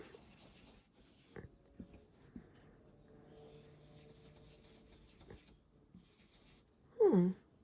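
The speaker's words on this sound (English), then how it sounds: "just stencil it in. Ink blend it in." Soft, intermittent dabbing and rubbing of an ink blending tool pushing pink ink through a stencil onto card, faint scuffs spaced across a quiet background, ending with a brief louder burst.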